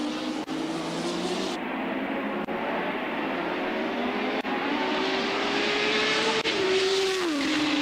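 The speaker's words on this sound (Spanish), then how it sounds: "se escuchan perfectamente los autos cuando pasan por ese sector" 1984 Formula 1 cars at the Canadian Grand Prix in Montreal roar past a trackside microphone, a steady loud engine howl with rising and falling pitch as cars pass, one sharp downshift near the end.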